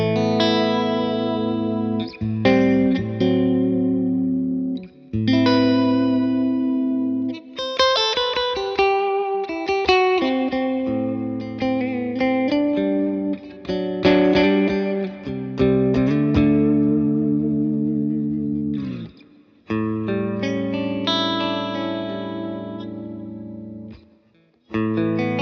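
Chimey, gain-tinged electric guitar with TV Jones pickups through a Victory VC35 The Copper amp, tone set high with reverb, playing a long run of chords and single-note lines with brief pauses, ending on a fading ring.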